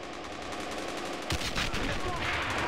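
Gunfire from a battle in the Men of War: Assault Squad 2 video game, a dense rattling stream of shots with a heavier burst midway, continuous and moderately loud amid game noise.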